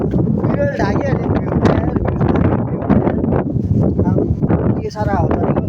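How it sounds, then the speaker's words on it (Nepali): Strong wind on a hillside trail near Gorkha Durbar buffets the microphone in a loud, continuous roar, with a person talking over it. "के साह्रो हावा"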